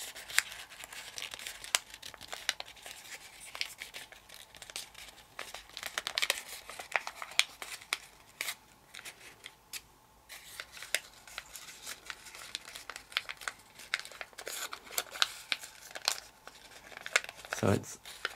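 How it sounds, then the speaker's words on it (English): Origami paper folded and creased while building a 3-D Penrose impossible triangle, making frequent sharp crinkles and crackles throughout under intermittent talking. "try to fold right on the creases"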